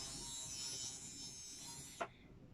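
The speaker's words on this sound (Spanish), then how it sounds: "con esta máquina de afeitar ¡chum! Se afeitan toda su barba y ese es el sonido que esta produce" An electric shaver buzzes steadily through a beard, a faint continuous high-pitched hum that stops with a short click near the end.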